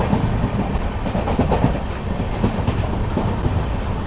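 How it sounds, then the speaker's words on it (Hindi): The Amritsar–Bikaner Superfast Express (14720) rolls along the rails with a loud, continuous rumble and rhythmic clatter of its wheels, heard close and unbroken. "साथ अपने गंतव्य की ओर बढ़ती हुई अमृतसर बीकानेर एक्सप्रेस।"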